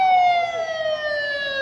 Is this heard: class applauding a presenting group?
no